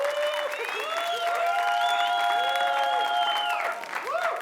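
A studio audience at a TV show claps in sustained applause, steady and full, with tonal voices or music riding on top.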